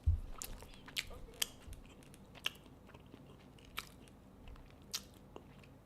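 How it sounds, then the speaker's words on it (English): A person chews food close to the mic with sharp crunchy bites at irregular intervals over quiet room tone, each crunch short and crisp. "I'm sorry I'm chewing like this."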